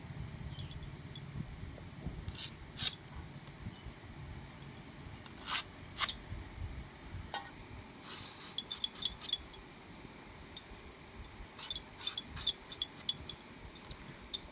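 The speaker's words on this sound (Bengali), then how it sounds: "কলাগুলিকে এভাবে করে কেটে নেব।" A knife slices through raw green bananas in a home kitchen, making quiet, crisp clicks and scraping cuts that come in irregular clusters over a faint background.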